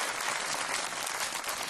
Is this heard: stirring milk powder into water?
no